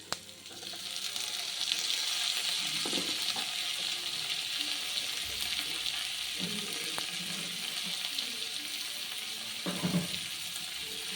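Tomatoes fry in a pan for a semolina upma, giving a steady, fairly loud sizzle with occasional stirring scrapes and clatter throughout.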